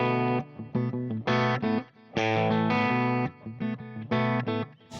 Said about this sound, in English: Just hit the echo pedal. Yeah, I just put that longer echo on.